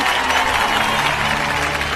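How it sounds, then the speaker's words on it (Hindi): A crowd claps at a speech about farmers, a dense, continuous wash of applause at close range that holds steady for the whole moment. "ताली बजाओ ताली"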